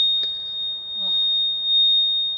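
A failing propane alarm in a camper at a campground emits a continuous high electronic tone, fairly loud and steady, with brief faint clicks and a short voice in the background.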